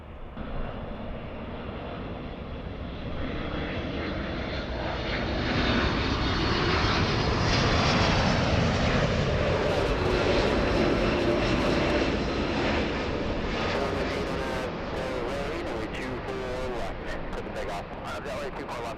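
Airliner engines roaring at LAX as an aircraft takes off, a loud sustained rumble that swells and builds over the full length, with tower radio chatter faint underneath.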